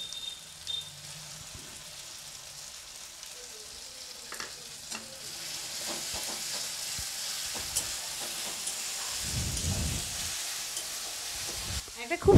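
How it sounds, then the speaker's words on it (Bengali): Spices with dried red chillies, salt and sugar fry in mustard oil, a soft sizzle and crackle that grows steadily busier and louder, with occasional stirring clinks and a brief louder burst near the end. "সমস্ত কিন্তু তেলে, সরষের তেলে ফ্রাই করে নিতে হচ্ছে"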